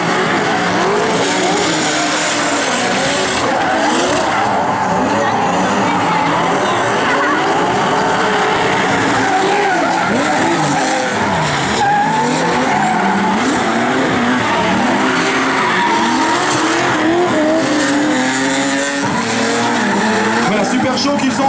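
Rally cars drift at a Falken show during the 2015 Rallye de Wallonie, with continuous loud engine roar and long tire squeals throughout and a commentator talking over it.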